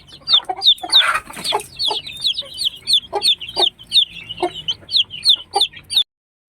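Newly hatched Rhode Island Red crossbreed chicks peep in a steady string of short, high chirps, close and clear, with a brief rustle early on.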